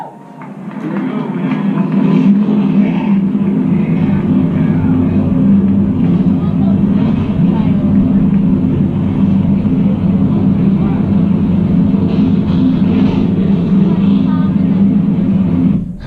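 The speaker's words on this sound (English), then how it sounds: "It's a relatively low-pitched rumble because the engine is not spinning very fast" A loud, low race car engine rumble holds steady for the whole stretch, a crowd of idling motors droning together without a break.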